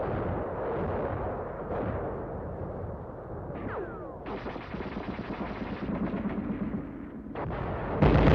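Machine gun fire in Arctic winter combat, as rapid bursts of shots rattle over a loud, dense rumble of battle noise that continues throughout.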